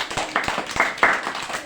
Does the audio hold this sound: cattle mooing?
no